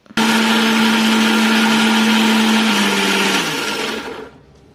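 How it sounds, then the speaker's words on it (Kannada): A mixer grinder grinds large pieces of raw mango in its jar, a loud continuous whirring roar that runs steadily for about four seconds, then slows and fades as the motor winds down. "ಈ ಮಾವಿನಕಾಯಿಯನ್ನು ಒಂದು ಮಿಕ್ಸಿ ಜಾರಿಗೆ ಹಾಕೊಂಡು ರುಬ್ಕೊಳ್ಬೇಕು"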